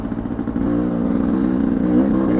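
A motorcycle engine runs at a steady idle with a throbbing low rumble, close and loud, that rises slightly partway through, with no voices.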